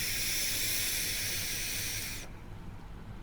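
Air is drawn hard through the open airflow of a Hadley vape atomizer, a loud steady hiss lasting about two seconds that cuts off abruptly, leaving quiet room noise.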